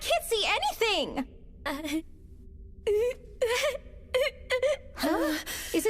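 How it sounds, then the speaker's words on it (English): A character in an English-dubbed anime film cries and wails in high, quavering sobs and moans, with bursts of weeping broken by short pauses. "does it sound like someone is crying?"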